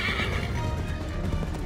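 In Assassin's Creed 3, a horse whinnies loudly at the start while clip-clopping hooves and game combat noise continue steadily underneath.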